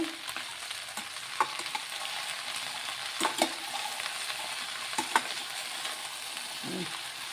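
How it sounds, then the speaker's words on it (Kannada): Okra sizzles in a pan over a medium flame, a steady moderate frying hiss with occasional spoon scrapes and soft knocks as it is stirred. "ಈ ಥರ ಮೀಡಿಯಮ್ ಫ್ಲೇಮಲ್ಲಿ ಇಟ್ಕೊಳ್ಳಿ ಸೀದು ಹೋಗಬಾರ್ದು ಬೆಂಡೆಕಾಯಿ"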